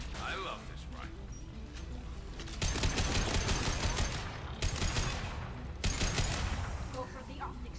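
Rifle fire in Mass Effect 2, loud sustained bursts of shooting in two long stretches with brief lulls between, mixed with game effects and voices talking throughout.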